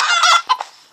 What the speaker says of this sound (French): Ah, une poule.